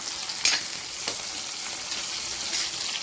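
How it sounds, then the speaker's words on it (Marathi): Green chillies fry in hot oil in a pan for bhindi bhaji, with a steady close sizzle and a few sharp stirring scrapes and taps, and no voices. "चला आता आपली मिरची पण अशी छान तळून झालेली आहे"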